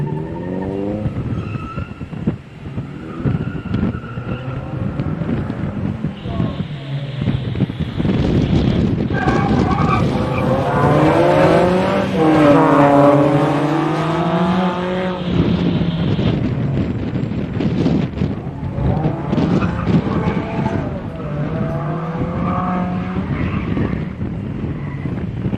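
A rally car runs a double figure-eight on a motor club gymkhana course, its engine revving and bogging in continuous waves through the turns, heard steadily close by with wind buffeting the microphone.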